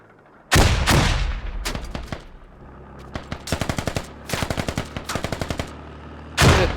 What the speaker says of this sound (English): There's a ton of militia grenades coming out right now.